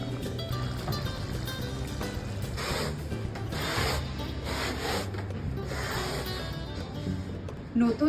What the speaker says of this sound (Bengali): ঝাঁটার এই যে ফুলগুলো ঝাড়ার জন্য আমি এই ব্রাশ ইউজটা করি